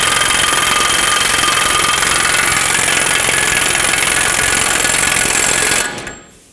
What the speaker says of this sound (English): You'll see me run it down with my impact, but that's just to run it down faster.